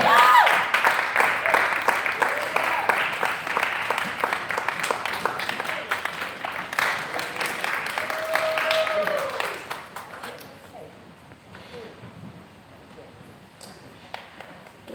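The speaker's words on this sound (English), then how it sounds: "Keep clapping." An audience at a panel discussion claps and cheers as a guest is welcomed to the stage, loud sustained applause that tapers off to scattered claps and quieter murmurs near the end.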